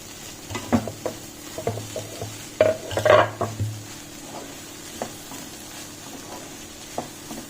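Chopped tomato fries in a hot pan while a spoon stirs it, giving a steady sizzle broken by repeated scraping clinks and a brief louder burst midway; no voices are present.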